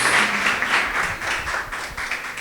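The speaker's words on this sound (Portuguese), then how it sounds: "Palmas para o nosso Deus" Congregation applauding during a church service, a dense, steady wash of many hands clapping that stays loud throughout with no voices standing out.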